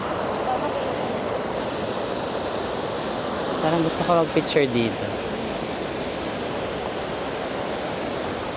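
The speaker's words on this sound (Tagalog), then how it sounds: "may umaagos na tubig" Cheonggyecheon Stream in Seoul flows steadily with a soft, continuous rushing hiss, while someone speaks briefly over it midway.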